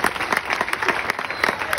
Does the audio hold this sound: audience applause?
yes